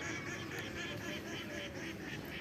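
Ducks on a village duck farm quack in a quick repeated series of honking calls, fairly close and steady against a soft background hush.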